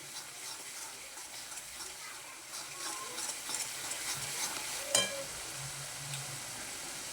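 Pav bhaji vegetables for ghotala pav bhaji roasting in a pan, a quiet sizzle with intermittent stirring scrapes and one sharper clink of the utensil partway through.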